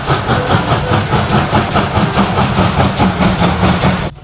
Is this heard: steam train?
yes